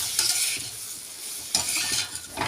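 Ingredients for coriander chutney sautéed in a pan, a close continuous sizzle broken by repeated scraping and stirring strokes, no voices.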